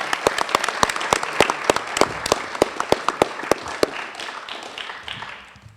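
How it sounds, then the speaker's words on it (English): An audience at a veterans commendation ceremony claps loudly for John, a dense burst of sharp individual claps that thins out and fades over several seconds. "Let's give John a big round of applause"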